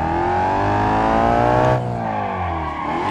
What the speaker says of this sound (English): Let's do some drifting.